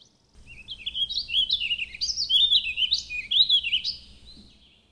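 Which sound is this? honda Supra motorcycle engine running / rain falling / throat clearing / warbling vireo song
warbling vireo song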